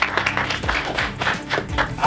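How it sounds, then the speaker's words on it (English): Basketball team members clap their hands together in a high school gym, brisk uneven claps mixed with shouting voices and footsteps, close and lively over a short burst. "clap it up, clap it up."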